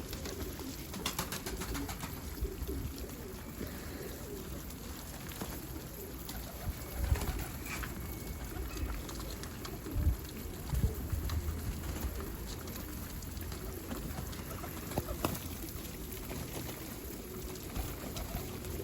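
A çapar pigeon near its coop gives soft, low coos now and then against a steady outdoor background hiss, with faint scattered rustles and no talk.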